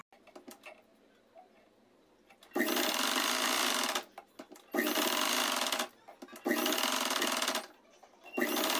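A sewing machine stitches saree fabric into a dress in loud bursts of rapid, even needle clatter, each lasting a second or two. Quiet pauses and faint handling noises fall between the runs.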